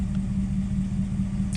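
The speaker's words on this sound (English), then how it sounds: "My truck's running" A parked Ram 1500 pickup idles with a steady, low engine rumble, close and even throughout.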